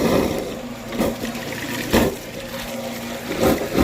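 Water drains out of the fuel tank of a 1976 John Deere 450C bulldozer, a loud, steady splashing gush with surging swells, close by and without speech.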